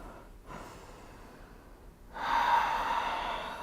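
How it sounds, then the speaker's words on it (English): A yoga practitioner exhales audibly while folding forward into Firefly Pose: a short soft breath first, then a longer, louder, breathy release that holds steady to the end. "Breathe out as you fold."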